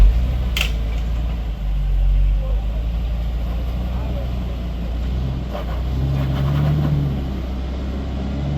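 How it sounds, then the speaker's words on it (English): An off-road vehicle's exhaust revs during a four-wheeling trail event, a steady engine drone rising and swelling in a few surges, fairly loud and close, with people talking over it. "Hey, check his exhaust."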